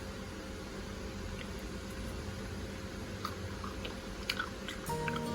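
Close, soft wet chewing and biting of boiled peanuts from a pork leg stew, a steady quiet mastication over a low background hum with a few small clicks, no talking.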